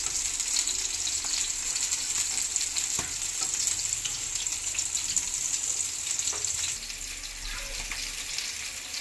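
Fish sizzling steadily on a hot tawa, a dense continuous crackle of frying oil with a few faint clinks, close and fairly loud, with no voices.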